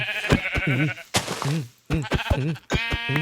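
Sheep in the video game Minecraft bleating, several short wavering calls in quick bursts, close and clear with brief pauses between them.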